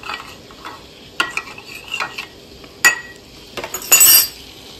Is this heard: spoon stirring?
yes